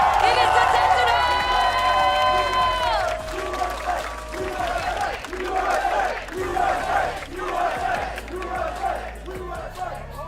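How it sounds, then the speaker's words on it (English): A crowd at the Riot Games Arena during a Valorant esports final chants USA in loud, rhythmic bursts amid general cheering and noise. "If there's one thing you can always guarantee from an NA crowd is useless USA chants just popping up out of nowhere"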